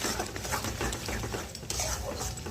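Chicken pieces being stirred and sautéed in oil in a pan for milk chicken korma, with scraping spoon strokes and sizzling in quick irregular bursts, close and fairly loud.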